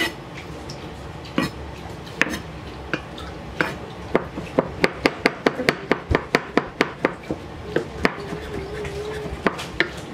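A kitchen knife chops ingredients for a macaroni salad on a cutting board, the blade also striking a second board that sits slightly higher. A few scattered cuts give way to a run of quick, sharp, evenly spaced knocks that stay close and clear.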